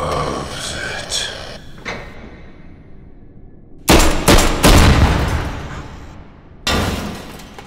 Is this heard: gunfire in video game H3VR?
yes